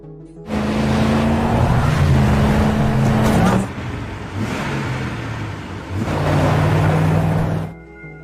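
A car driven recklessly through woods in a film scene, its engine revving hard in three loud surges with brief easing between them and possible tire noise, no talk.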